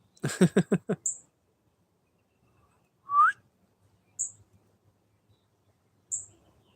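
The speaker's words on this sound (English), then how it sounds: "He's chirping, though. I hear him chirping." A bird gives a few short, high chirps spaced seconds apart in a quiet setting, after a brief burst of whistled notes at the start.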